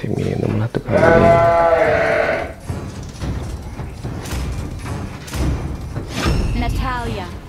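A noisy goat bleats loudly with a wavering, harmonic cry near the start, then another quavering bleat follows later, with talking heard through the clip.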